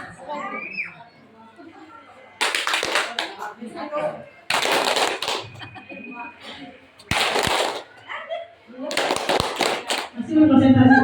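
A seminar audience claps in short rhythmic bursts during a hand-signal clapping game, following a leader's gestures with one, two or three claps; several loud group bursts alternate with stretches of a speaker's voice and children's chatter.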